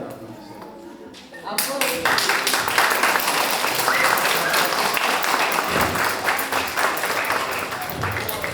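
Enthusiastic clapping breaks out after a quiet opening second and carries on steadily, dense and close, with voices mixed into the applause, at a promotional event.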